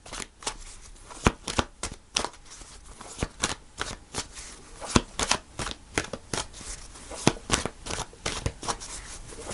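Tarot cards are shuffled by hand up close in a quick series of crisp riffling snaps and soft slides, with no talking.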